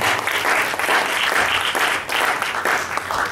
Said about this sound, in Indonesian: Tepuk tangan Pak Doni.